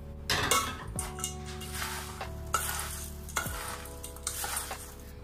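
Jhal muri is tossed and stirred in a metal bowl as puffed rice is mixed with salt and spices, making a dry, rustling scrape with repeated clinks and ringing taps of a spoon against the bowl's rim.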